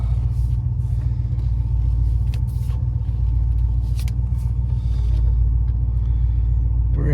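A 1980 Porsche 928 with manual steering driven through Lewisburg, North Carolina, its engine giving a steady low rumble heard from inside the car, continuous and fairly loud with faint road noise.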